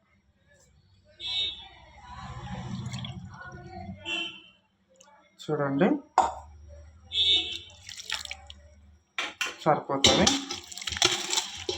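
Another glass of water splashes into cauliflower pakoda batter in brief pours, close by, mixed in with a speaking voice and soft kitchen clatter.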